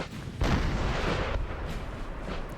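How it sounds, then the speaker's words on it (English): Artillery shelling in a Napoleon: Total War battle, with cannon fire from a Spanish artillery crew during a large 1811 engagement at Gebora. It comes as a dense, continuous rumble of booms and blasts that swells and holds, with no talking over it. "Artillery as well, still shelling away."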